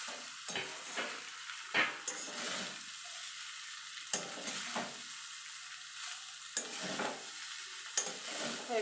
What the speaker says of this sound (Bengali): এইভাবে আলগা হাতে নেড়ে দেবো।